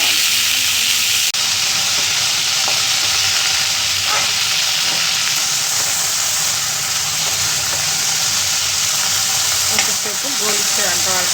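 Coriander leaves frying in oil for a tomato chutney give a loud, steady sizzle and hiss that runs throughout, with occasional stirring scrapes mixed in.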